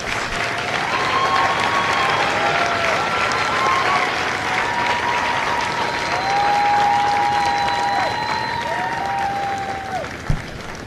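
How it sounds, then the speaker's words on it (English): Audience applause at a recruit company graduation ceremony at MCRD San Diego: a sustained, dense crowd clapping that lasts the whole stretch, with faint voices and a whistle-like tone over it and a single thump near the end. "please join me in a round of applause for the company staff of Company A"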